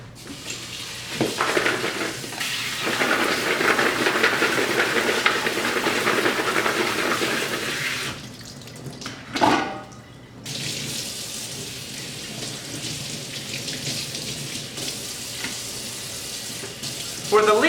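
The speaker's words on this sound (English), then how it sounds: "So we'll just get this in the sink and give it a rinse real quick." Vegetables for a beef bone broth are rinsed under a running sink tap, a steady splashing water stream that stops briefly partway through, with clattering handling sounds around it.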